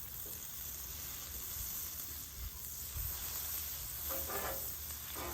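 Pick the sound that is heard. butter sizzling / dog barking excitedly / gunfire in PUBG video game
butter sizzling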